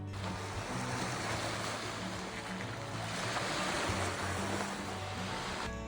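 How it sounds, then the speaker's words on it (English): Calm sea at Castelsardo, Sardinia, washing in a continuous broad rush of surf with gentle swells rising and easing, mixed with some wind and no voices. "Look at the calm energy here. Watch the sea."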